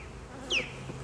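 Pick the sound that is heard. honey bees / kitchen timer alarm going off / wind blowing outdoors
honey bees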